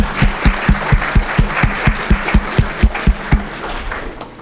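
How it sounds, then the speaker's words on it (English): Applause from a conference audience after a talk, with rhythmic thumping beats pulsing beneath the clapping before it fades out. "I really want just to have a really big applause for her"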